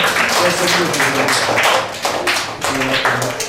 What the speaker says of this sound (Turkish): Enes'e kocaman bir alkış alalım çünkü çok güzel bir karnesi var